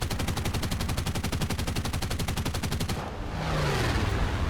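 Defensive machine gun on a German SM.79 Serie I bomber in War Thunder, a fast rapid-fire burst of evenly spaced shots for about three seconds, loud and close, then stopping as engine drone continues.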